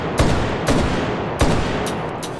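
Three heavy shotgun blasts from the H3VR virtual-reality shooter, each a loud close report spaced roughly half a second to a second apart, with a short ringing tail after each.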